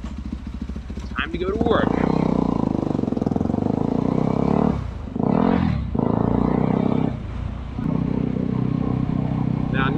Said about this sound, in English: I don't normally ride this bike on the road